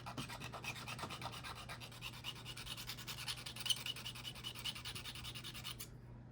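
Steady rasping scrape of a file across metal inside an ADT security box, continuous and close, fairly quiet, running for several seconds before stopping abruptly.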